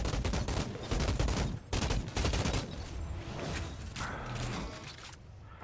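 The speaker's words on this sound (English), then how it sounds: "Gun sounds awesome." Loud, dense volleys of gunshots from Outriders, rapid repeated cracks layered with mechanical clatter, continuing almost without pause and easing slightly toward the end.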